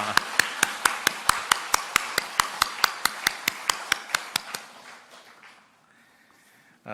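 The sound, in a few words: church congregation applauding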